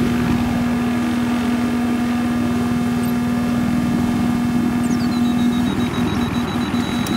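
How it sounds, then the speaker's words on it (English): A steady video-game helicopter rotor drone with a constant mechanical hum, sustained and fairly loud, with faint electronic tones layered over it. "I don't see the helicopter, Andrew."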